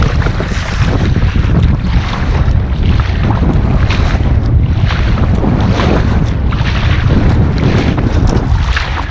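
Strong headwind buffets a small boat out on Tonda Reservoir, a loud continuous roar of wind noise hitting the microphone, with water and hull sounds mixed beneath it and no break throughout.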